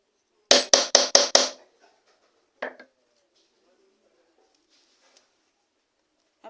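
A hammer striking a hole punch: five quick, sharp metallic taps in a rapid burst, then a single lighter tap after a pause, close in an otherwise quiet room.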